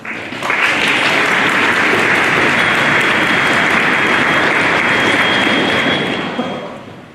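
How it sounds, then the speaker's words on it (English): A school audience at a third-grade strings informance breaks into loud, sustained applause that swells in quickly, holds strong for several seconds and tapers off at the end. "let's give our first speaker a round of applause"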